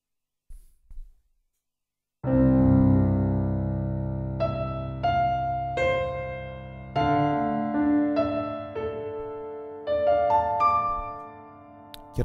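A Galaxy Vintage D sampled grand piano on its Chamber Hall preset plays a rich low chord followed by a melodic passage of single notes and chords, clear and close, with a natural hall tail and a faint bump beforehand.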